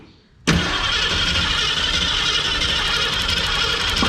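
A 1965 Ford Mustang engine cranking over in a sudden loud burst that holds steady and close for several seconds, with no pause after it starts.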